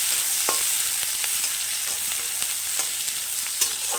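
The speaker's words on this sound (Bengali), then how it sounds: "লাল করে ভেজে নেব।" Chopped onion and crushed garlic fry steadily in hot oil for a pumpkin-leaf greens dish, a dense continuous sizzle with faint clicks of stirring, close and alone without talk.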